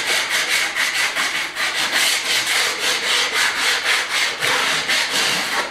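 Sandpaper is worked by hand across wood during a rustic renovation, giving loud, close, rhythmic back-and-forth rasping strokes, roughly two per second, with no talk over it.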